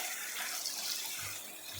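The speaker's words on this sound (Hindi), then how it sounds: "बस इसी पानी को हमने थोड़ा थोड़ा सा ऐड करते हुए मसाले को भून लेना है" Water added to masala frying in a pan for dhaba-style chana dal, giving a steady close hiss and splutter like running liquid, continuous and fairly soft, with no talking.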